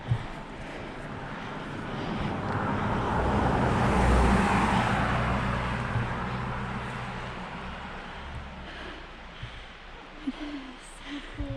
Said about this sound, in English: We're hearing cars.